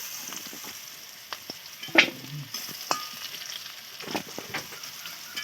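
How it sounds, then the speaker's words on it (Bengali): Malabar spinach stalks fry in a little oil in a pan, giving a steady soft sizzle with occasional pops and stirring clinks, close and moderately quiet, with no talk. "পুঁই শাকের ডাঁটাগুলো এবারে ভেজে নেবো একটু তেল দিয়ে"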